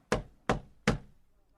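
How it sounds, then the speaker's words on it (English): Three sharp, evenly spaced knocks on a door ring out close and loud, each rap followed by a brief fading resonance before silence. "Someone knocked on Richard's door."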